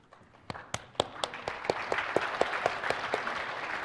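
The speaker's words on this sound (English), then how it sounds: "Seems that you get all the applause here." A conference audience at a SharePoint search architecture session breaks into applause that starts with a few isolated, sharp claps and builds into steady, fuller clapping.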